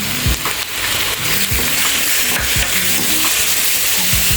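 Ground tomato paste hits a hot oiled pan and fries with a steady loud sizzle, and a few soft scraping stirs come through at intervals. No voice is heard.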